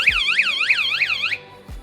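A van's zonal alarm system goes off after a simple push on the vehicle, sounding a loud, close electronic warble that rises and falls in rapid repeated sweeps for just over a second, then cuts out abruptly.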